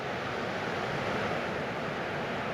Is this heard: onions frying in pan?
no